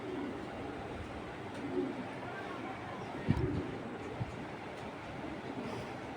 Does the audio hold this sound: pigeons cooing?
yes